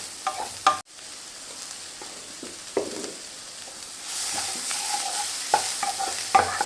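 Crab pieces frying in a pan are stirred, with scraping spoon clacks and soft sizzling under a steady low hiss; one sharp knock early on, no talk.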